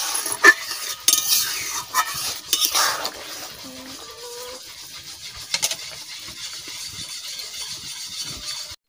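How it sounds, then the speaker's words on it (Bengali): A spoon stirs fish curry with banana in a metal pan, giving close scrapes and clinks that come thick early on, then thin out over a soft sizzle. "আমি এখন মাছ দিয়ে দিচ্ছি"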